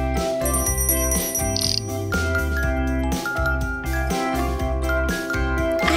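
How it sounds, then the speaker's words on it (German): A music box plays a bright, tinkling melody of repeated bell-like notes that carries through the whole stretch, layered over steady background music. "Eine Spieluhr?"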